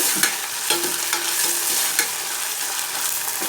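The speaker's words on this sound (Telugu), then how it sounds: "ఇప్పుడు టమాటా ముక్కలు బాగా వేగనివ్వాలి" Finely chopped tomato pieces fry in a pan with a loud, steady sizzle while a spoon stirs them, giving several distinct scraping clicks against the pan up close.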